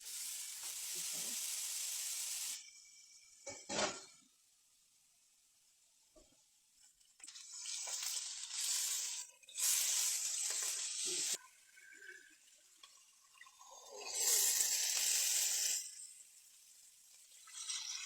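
A roast sizzles loudly as it sears in a hot frying pan, the hiss swelling and fading in several bursts with quiet gaps between, no talking.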